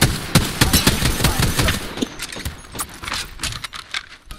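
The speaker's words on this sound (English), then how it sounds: "The enemies are shooting at me!" Gunfire crackles in an Apex Legends firefight as enemies shoot, with a rapid, loud burst of automatic shots that thins into scattered cracks and pops.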